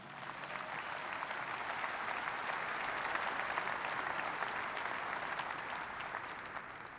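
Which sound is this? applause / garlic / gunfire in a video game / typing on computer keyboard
applause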